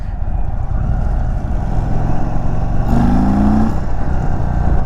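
An Indian motorcycle from the 2023 lineup accelerates hard in sport mode, its engine droning loud and steady throughout with a rising harmonic whine partway through and wind rush over it.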